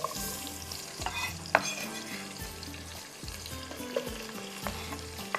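Onion frying in a pan, with a low sizzle under repeated spoon scrapes that come roughly once a second, close and fairly quiet, with no talking.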